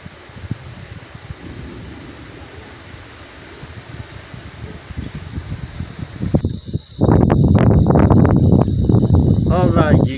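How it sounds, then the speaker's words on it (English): Strong wind gusting during a Texas tropical thunderstorm, low rumbling buffeting that builds steadily and turns into loud, roaring microphone-battering bursts in the second half. "the wind is picking up"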